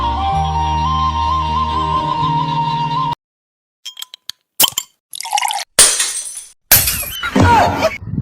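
A bottle-breaking sound effect: backing music cuts off, then comes a string of sharp glass crashes and shatters with tinkling debris, loud and up close.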